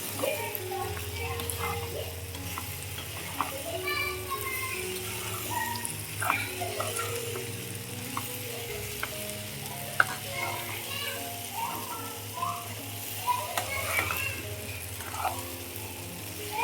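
Soaked basmati rice sautéed in a pan for a paneer veg pulao, giving a steady low sizzle with faint scraping and stirring clicks throughout, close by and moderately quiet, with no talk.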